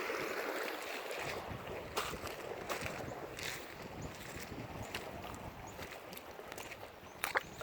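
A creek swollen after overnight rain, deeper than usual, gives off a broad, steady rushing wash. Gusts of wind buffet the microphone, and a few sharp ticks and knocks sit on top.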